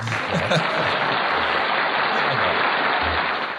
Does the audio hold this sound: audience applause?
yes